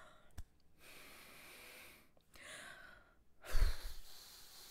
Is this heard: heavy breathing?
yes